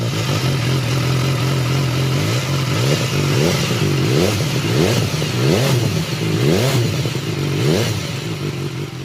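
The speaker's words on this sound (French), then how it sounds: "Une fois le 4 cylindres en route, l'échappement délivre un bruit sportif très sympa." A 2015 BMW S1000 XR four-cylinder motorcycle revs hard through its sporty exhaust, a steady loud idle broken by repeated rising blips of the throttle, close and continuous with no talk.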